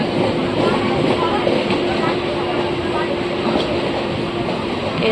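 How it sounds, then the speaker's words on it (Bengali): An express train rolls past near the Howrah car shed with a loud, continuous rumbling roar and a faint rhythmic clatter. The sound stays close and steady throughout, with voices in the background. "আর একটা এক্সপ্রেস ওটা, আর দেখো কত এক্সপ্রেস"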